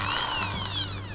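An electric drill whirs at close range in a short burst, its pitch gliding slightly as it bites, over a low steady hum.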